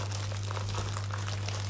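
Plastic bag packaging from a fourth-generation Amazon Echo Dot crinkles as it is handled and opened, soft scattered rustles close to the microphone over a steady low electrical hum.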